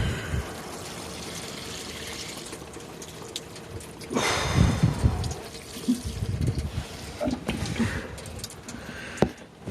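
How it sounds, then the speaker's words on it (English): Water pours from a 9-liter watering can onto potted cacti, a steady trickling splash close by that swells louder midway and continues in uneven gushes until it stops. "You can hear that water going in."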